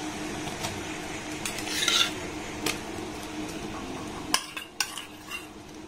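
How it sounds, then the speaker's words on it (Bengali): Khoya kheer is stirred into sugar syrup in a pan for coconut-style naru sweets, a spoon scraping and clinking against the pan in short irregular strokes with a light background hiss. "এই খোয়া ক্ষীরটাকে চিনি শিরার সাথে আমি ভালোভাবে কিন্তু এইভাবে নাড়াচাড়া করে নেব।"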